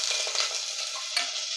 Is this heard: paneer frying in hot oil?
yes